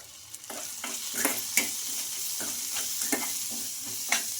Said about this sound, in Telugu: ఇంకా మనకు పసుపు పచ్చివాసన పోయే వరకు అయితే వేయించుకోవాలండి